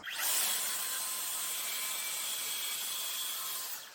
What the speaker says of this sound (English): for the first step, we'll use the track saw on the MFT table with the track, and we'll do a nice clean cut on the top just above the splines.